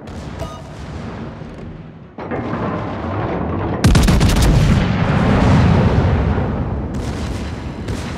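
Warship guns fire in World of Warships during an Ohio battleship match: heavy booming salvos with rolling rumble, a loud blast near the middle sustaining a thick roar, then another volley near the end.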